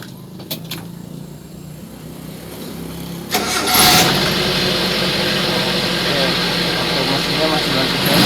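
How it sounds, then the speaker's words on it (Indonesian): A Suzuki Carry's engine cranks and catches at close range, then settles into a steady, loud idle under faint background chatter. "Coba kita nyalakan mesinnya."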